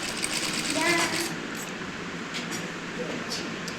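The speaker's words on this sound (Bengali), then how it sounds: "সেলাই করা শুরু করবেন।" Sewing machine stitching an open nighty at home, a steady close whirring run of stitches under a voice speaking Bengali.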